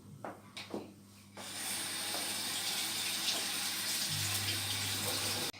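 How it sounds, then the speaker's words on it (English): Washing hands under a running kitchen tap while making a recipe: a few brief splashes and rubs, then a steady, fairly close rush of water that continues for several seconds. "First, you have to wash your hands."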